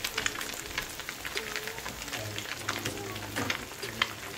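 Crappie fish patties fry in butter in a pan, a steady close sizzle and crackle running throughout with a few louder pops and spatters.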